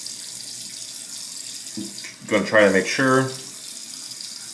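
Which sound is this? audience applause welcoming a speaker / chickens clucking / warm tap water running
warm tap water running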